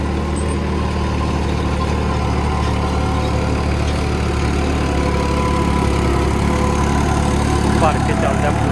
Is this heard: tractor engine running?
yes